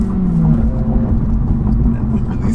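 A Honda Civic Si engine drones low and steady as the clutch is released clumsily during a road drive, with a rough, rumbling tone under faint cabin noise.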